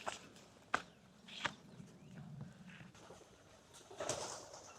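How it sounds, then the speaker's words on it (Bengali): Pigeons coo faintly in a quiet rural Haor village, mixed with a few sharp taps and soft rustling movements, with no one talking nearby. "কবুতর"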